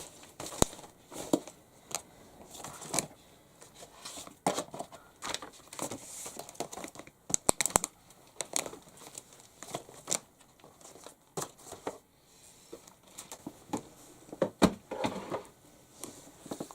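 Small notebooks and papers are sorted and stacked on a beauty desk during tidying, giving scattered close thumps, paper rustles and light knocks at an irregular pace for a long stretch.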